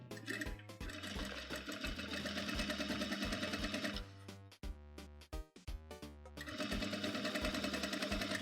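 Sewing machine stitching along an old seam line on a pair of jeans, a loud rapid mechanical whirr in long runs that stop and restart briefly midway, close and alone.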